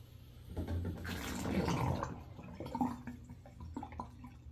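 Water gurgling and draining down a slow-draining bathroom or kitchen sink right after plunging, a steady wet rush swelling then easing into trickles and drips, close and moderately loud with no talking.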